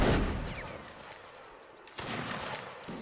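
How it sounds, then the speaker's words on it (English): Musket volleys crack and rumble in a Napoleonic Wars siege battle game, a few sharp bursts of fire over distant battlefield din. "Fire coming in here."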